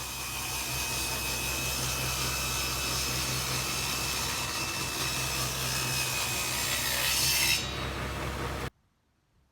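Power saw ripping a leftover dining table leg in half lengthwise, a loud, steady rasping roar for several seconds that cuts off abruptly into silence.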